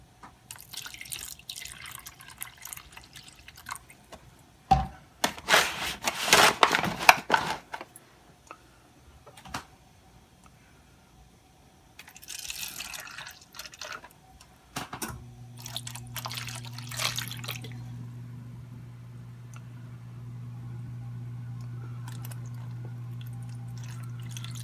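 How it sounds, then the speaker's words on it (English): Apple juice poured from a container into the bottom of foil pans of ribs, giving splashy liquid bursts and trickling drips with pauses between, then a steady low hum. "we're going to pour some into the bottom of the pans."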